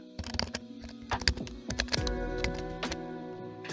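Irregular clicking and clacking of keys on a computer keyboard, close and fairly quiet, with uneven bursts of keystrokes and brief pauses.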